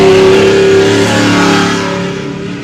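An off-road competition race truck at a high desert 100 event in Powell, Wyoming revs hard, a loud sustained engine roar with rising and falling pitch that holds for a few seconds before easing slightly.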